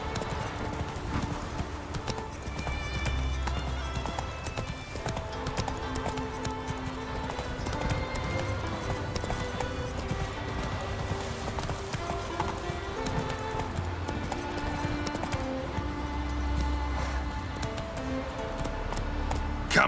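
Geralt's horse Roach trots steadily in Witcher 3, the game's clip-clop hoofbeats running without a break for about twenty seconds under a layer of background music.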